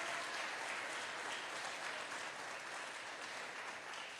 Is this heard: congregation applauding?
yes